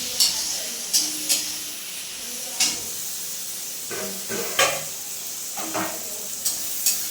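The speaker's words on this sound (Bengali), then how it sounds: "পেঁয়াজটা হালকা ভাজা হোক।" Onions fry lightly in a pan on a home kitchen stove, a steady sizzle broken by about ten sharp, evenly spaced bursts as they are stirred.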